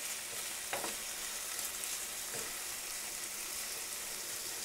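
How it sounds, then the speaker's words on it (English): Pasta d'Estate ingredients sautéing in a pan give a steady, even sizzle throughout, with a couple of brief stirring scrapes. "Okay, they're just going to saute nice and quick."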